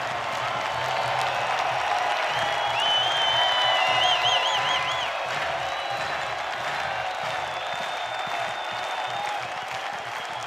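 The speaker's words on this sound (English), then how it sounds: "Crowd on its feet." A baseball crowd at a Texas vs UC Santa Barbara college game stands, cheering and applauding in a steady, loud roar, with whistles and shouts over the top.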